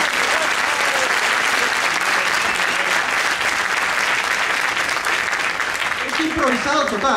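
A charity gala audience gives loud, sustained applause for the sound engineer, dense clapping filling the room throughout and fading slightly at the end.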